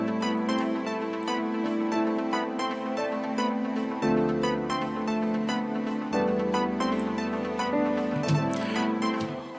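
Several synth layers made in FL Studio play together in a dense, continuous stack of chords with a steady ticking beat, shifting harmony every few seconds.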